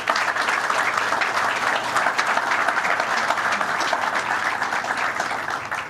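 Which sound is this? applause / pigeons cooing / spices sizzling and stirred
applause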